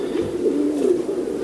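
A Teddy pigeon gives a close, clear coo, a short rolling call with a few pulsing swells.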